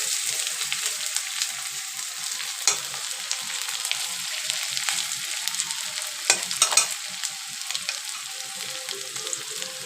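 Chopped green chilies fry in hot oil and are stirred constantly, giving a steady close sizzle with a few sharper scrapes and clatters of the spoon against the pan.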